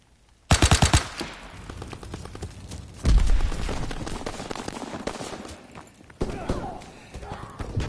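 Gunfire in Call of Duty WWII: a sharp rapid burst of automatic fire, then sustained rattling volleys and thuds of battle, loud and close, with voices talking in between.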